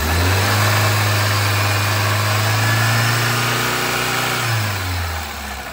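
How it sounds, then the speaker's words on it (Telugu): A 2008 Hyundai Santro Xing petrol engine runs close by with a steady, even hum that rises slightly as it is revved, then drops back near the end. No one speaks over it. "సింగిల్ సెల్ఫ్లో అయితే వెహికల్ స్టార్ట్ అవుతుంది"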